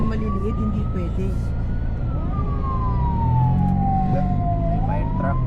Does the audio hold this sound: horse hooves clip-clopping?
no